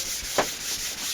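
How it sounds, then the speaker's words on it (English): Abrasive paper rubs across a sprayed lacquer finish in a short, steady scratchy stroke, close up, with one slightly stronger pass midway and no voices. "keep sanding it"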